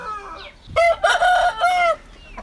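An Aseel rooster crows once, loud and close, its drawn-out call breaking into several strained segments.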